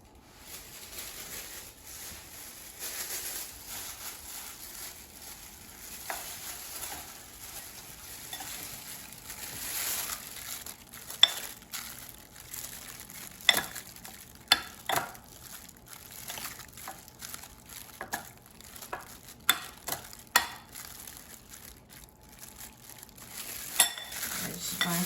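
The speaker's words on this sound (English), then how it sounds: "I'm just going to toss them so they're evenly coated with oil and seasonings" Raw chicken bites being tossed with oil, paprika and seasonings for the air fryer make soft, wet stirring and rustling, broken by scattered light clicks and taps, fairly quiet throughout.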